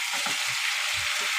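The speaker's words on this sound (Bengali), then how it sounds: "ছাঁকা তেলে আলু ভাজা দিলাম আমি ফেলে।" Potato pieces deep-frying in hot mustard oil, a steady bright sizzle and crackle that holds evenly throughout, close and fairly loud, with a few soft low bumps underneath.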